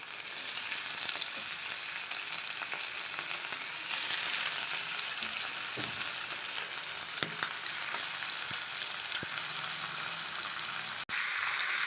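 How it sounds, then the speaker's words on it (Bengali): Prawns frying in hot mustard oil, a continuous loud crackling sizzle with occasional pops and a faint clink or two, steady throughout with a brief dropout near the end. "তেলটা গরম হয়ে গেছে, এবারে আমি একটা করে মাছের পিস দিয়ে দিলাম।"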